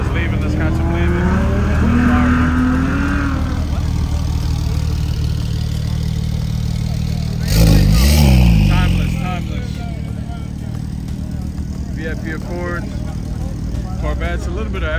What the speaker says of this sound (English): Got some cars leaving.